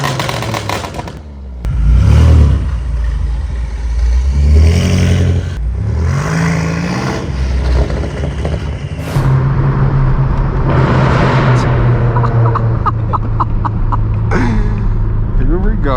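A BMW M8 Competition with a roughly 800 hp V8 rumbles low and steady while driving, its exhaust swelling in a couple of louder revs and holding a constant drone beneath occasional clatter, with no voices.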